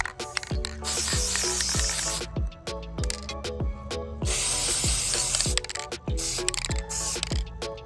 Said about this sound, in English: now I'm gonna give them a couple sprays of this.